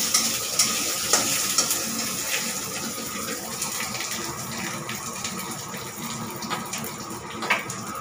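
Curry leaves frying in hot mustard oil alongside five-spice and dried chilies, a continuous close sizzle with crackles and a few sharp utensil clicks early on.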